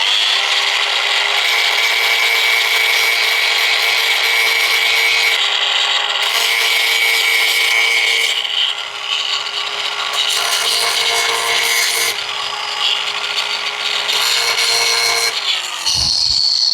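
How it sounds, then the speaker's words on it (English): Grinder cutting small protrusions off the metal roof of a Sprinter campervan, a loud continuous high abrasive whine with shifting pitch that runs nearly throughout, dropping out briefly near the end. "I'm back with my grinder. I'm just going to take those little bits off and see how it goes."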